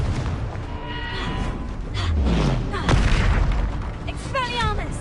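A Confringo spell from Hogwarts Legacy fires with a deep booming blast, mixed among other spell effects, whooshes and rising magical tones in a busy, loud combat soundscape.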